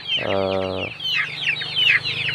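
Chicks on a poultry farm: one low, buzzy cluck, then a run of rapid, high, falling peeps close by.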